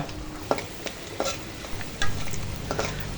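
Spices with turmeric, cumin, fish masala and salt sizzle and crackle in a hot pan as they brown, with sharp scraping stirs breaking in at irregular moments.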